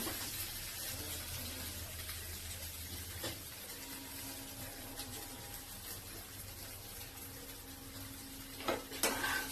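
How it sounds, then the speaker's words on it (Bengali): Drumstick (sajna) pieces and potatoes lightly frying with turmeric and salt, a faint, steady sizzle that runs throughout, with occasional soft scrapes and clinks of stirring near the end. "এটাকে একটুখানি ভেজে নিব হালকা, একটুখানি হলুদ লবণ দিয়ে, একটু সামান্য হলুদ দিয়ে দিব।"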